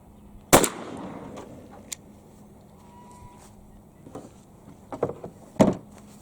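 A shotgun loaded with turkey ammunition fires one loud, sharp blast near the start, then a quiet outdoor stretch with a few softer knocks and a second sharp bang near the end.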